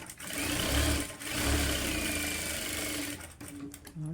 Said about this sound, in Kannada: ಈಗ ಕ್ರಾಸ್ ಬೆಲ್ಟ್ ಮೇಲೆ ಇನ್ನೊಂದು ಸ್ಟಿಚ್ಚು ಹಾಕ್ಕೊಳ್ತಿದ್ದೀನಿ